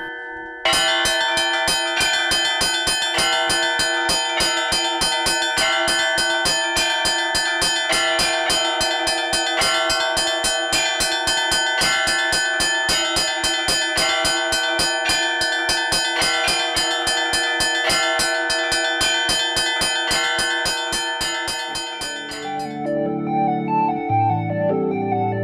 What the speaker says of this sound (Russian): Вот сейчас, наверное, продемонстрирую самый простой звон, который допускается.